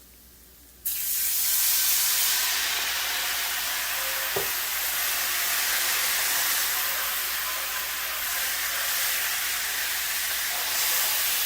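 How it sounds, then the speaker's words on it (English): Dry vermouth poured into a hot pan after garlic butter steak bites, bursting into a sudden loud steamy hiss that holds as a strong, continuous sizzle close by, with no talking. "to the pan, we're going to be adding 1/3 cup of dry vermouth"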